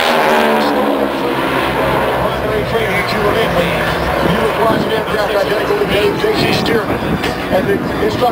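The four-plane Aeroshell Aerobatic team flies a display at the 2008 Quad City Air Show; a steady engine drone runs throughout beneath loud, continuous commentary.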